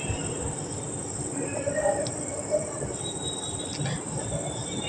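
A train at Kharagpur station, heard as a steady rumbling rail noise with a high metallic whine and occasional brief squeals, continuous and moderately loud over five seconds.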